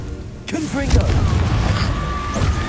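A Confringo fire spell blast in the Hogwarts Legacy video game bursts in abruptly, followed by a sustained, loud roaring rumble with in-game voices talking over it.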